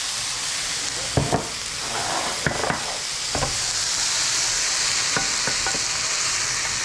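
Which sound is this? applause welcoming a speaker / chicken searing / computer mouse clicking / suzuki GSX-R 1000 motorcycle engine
chicken searing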